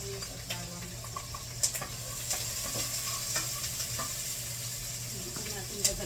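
Onion and garlic sauté in a pan with a continuous close sizzle and scraping stirs. A steady low hum runs underneath, and occasional clinks of a utensil against the pan cut through.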